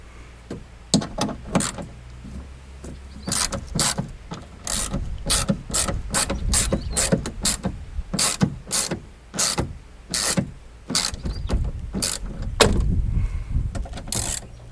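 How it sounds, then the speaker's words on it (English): A ratchet clicks steadily in short repeated bursts while unwinding the 10mm bolt clamps inside the driver's door of a Skoda Fabia Mk1, close and loud with no talk. "release the 2 10mm bolt clamps and unwind them until the pin becomes loose"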